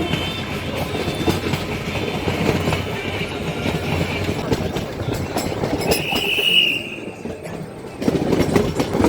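A train rolls along railway tracks with a continuous rumble and clatter of wheels, loud and close, easing briefly before the noise picks up again; a high squeal rises for a moment partway through.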